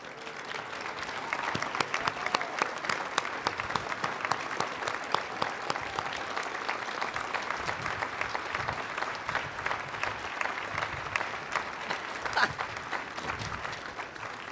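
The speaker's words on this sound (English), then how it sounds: "huge round of applause?" Audience at a Pasadena Veterans Day ceremony applauding veterans and service members, steady dense clapping that holds at moderate level throughout, with faint crowd murmur.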